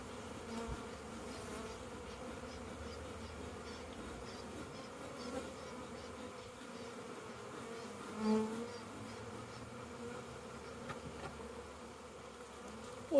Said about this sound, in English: Awesome little bees.